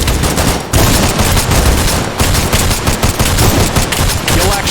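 Rapid video game gunfire crackles in loud, dense automatic bursts with only brief gaps, close and harsh throughout.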